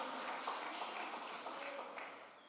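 A church congregation claps for the Lord in a short, even burst of applause that carries through the whole moment and tapers slightly at the end.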